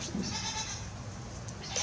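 Goats on a small farm give a faint, brief bleat over a low steady background hum, heard at some distance without any talking.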